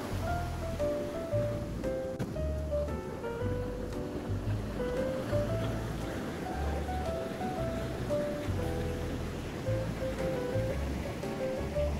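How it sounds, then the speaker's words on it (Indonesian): Large ocean waves wash onto a beach at Pangandaran, making a continuous low surging roar that sits at a moderate distance with no voices. "ini ombaknya besar banget"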